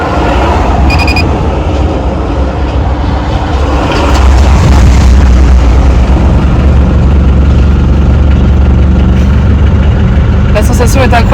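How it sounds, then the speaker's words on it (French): A newly installed engine in a small car starts for the first time and then runs with a loud, steady low rumble. A few faint clicks and beeps come at the beginning and end. "Je vais démarrer le nouveau moteur pour la première fois."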